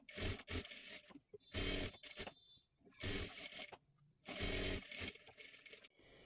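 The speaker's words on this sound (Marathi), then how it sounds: "पूर्ण आपल्याला हे शिलाई करून घ्यायचं आहे" Sewing machine stitching a blouse neckline: the motor whirs in several short bursts with brief pauses between, close and fairly quiet.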